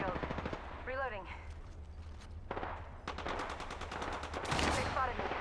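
Rapid automatic gunfire in Apex Legends strikes the player in quick bursts, with sharp repeated cracks, short pauses and a louder stretch near the end. A game voice announces events over the shots.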